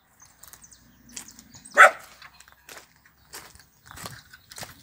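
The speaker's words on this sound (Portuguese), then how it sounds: "Tem os cachorros." Dogs barking at an old abandoned house, a few sharp barks and yelps spaced irregularly, one loud bark standing out among quieter ones at moderate distance.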